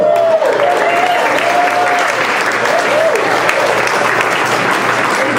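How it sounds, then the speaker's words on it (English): Steady applause from a crowd fills the whole stretch, dense and loud, with a few whistles rising through the clapping. "Thank you to everyone that's clapping."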